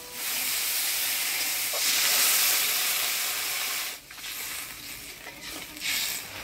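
Water poured into spice paste frying in a pan for egg curry, producing a loud continuous sizzle and steamy hiss that swells, dips sharply, then carries on with stirring scrapes.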